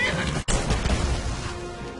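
A horse neighs in the video game Skyrim, a loud whinny followed by a sharp impact, with game ambience continuing underneath.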